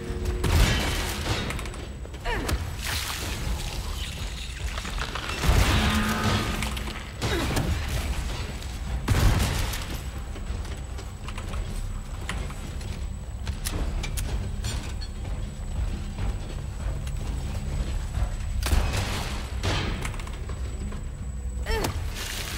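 Dense, noisy action in Resident Evil 4's Separate Ways with several sharp gunfire bursts and mechanical clatter, running steadily throughout at high volume.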